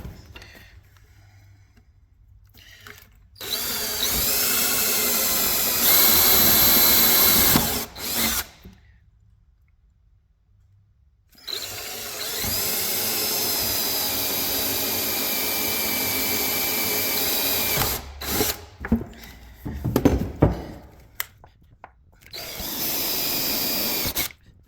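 A power drill bores into the flatbed of a 2006 Ford F-250 custom build for self-tapping screws, running in several loud sustained bursts with brief pauses and short stop-start whirs between them.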